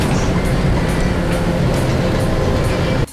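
A Las Vegas monorail train rumbles past close by with a steady, loud rolling roar and faint whine, continuous throughout before cutting off at the end.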